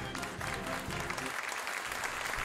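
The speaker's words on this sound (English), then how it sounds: "I love the applause." Studio audience applause on a radio talk show, a busy patter of clapping hands with a low voice mixed in underneath at first, the clapping continuing to the end.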